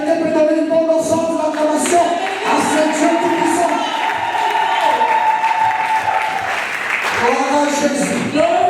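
A church congregation bursts into sustained applause and acclamation, clapping and cheering continuously over a steady loud wash of crowd noise, with voices shouting throughout.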